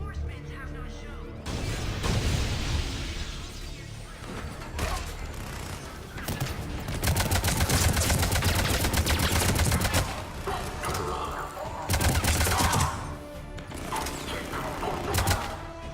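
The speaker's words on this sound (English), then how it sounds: "The gunfire behind me." Sci-fi gunfire in Mass Effect, loud bursts of rapid automatic shots and impacts coming in clustered volleys, with a voice speaking between the barrages.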